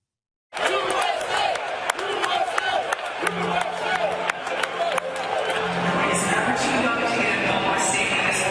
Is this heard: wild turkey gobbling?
no